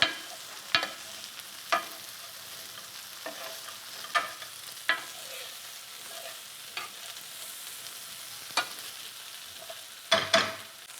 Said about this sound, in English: You gotta chuck that salt in there with a touch of pepper. Give that a stir.